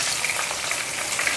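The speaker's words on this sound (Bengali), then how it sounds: "সো মাছ ভাজাগুলো একদম গরম গরম হয়ে গেছে" Pieces of chitol fish belly frying in hot oil in a pan, giving a steady, loud, close sizzle that runs without a break and with no talk over it.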